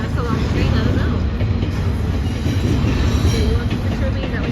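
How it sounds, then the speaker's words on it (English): A long train rolls past on the rails with loud, continuous wheel rumble and rattling wagons, close by and steady throughout, with a little background chatter. "Yeah, it's a long train"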